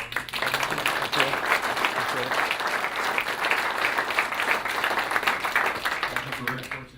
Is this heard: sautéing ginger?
no